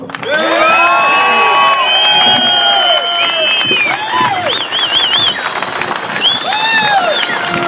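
A large crowd at a political rally for a senator applauds and cheers loudly and continuously, with whoops and shouts rising above the clapping.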